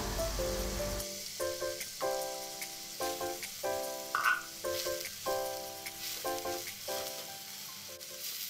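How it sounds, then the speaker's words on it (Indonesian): Finely ground spice paste sautéing in a little cooking oil for Indonesian lontong vegetable curry, a steady close sizzle and crackle broken into short rhythmic bursts as it is stirred, with no one talking. "Bumbu yang sudah dihaluskan ditumis dengan sedikit minyak goreng"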